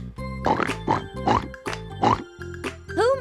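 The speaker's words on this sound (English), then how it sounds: "It's Piggy the pig." A cartoonish pig oinks in a short series of squealing, nasal grunts, five or six bursts close and clear with brief pauses between them.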